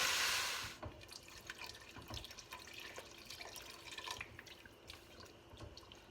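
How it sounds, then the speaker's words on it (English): Chicken or vegetable stock pours slowly into a pot of vegetables for broccoli and cheddar soup, a loud rushing pour at first, then softer trickling, splashing and dripping that continues close by without talk. "And now we can add our stock. So let's start with 4 cups. I'm going to slowly add it."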